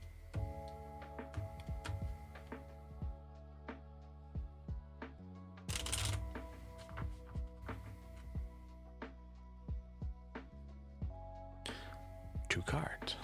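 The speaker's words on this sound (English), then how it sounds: "Just a real quick shuffle." Lenormand cards being shuffled quickly by hand during a live tarot reading, giving soft repeated riffling ticks and card slaps in short bursts, close and fairly quiet, with a steady tonal hum in the background.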